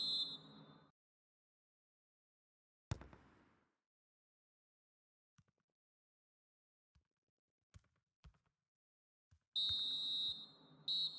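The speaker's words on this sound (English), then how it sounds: "Final whistle goes." A referee's final whistle in a FIFA football game: a short shrill blast, a quiet stretch with a few faint clicks, then a second longer blast, loud and clear with no talk.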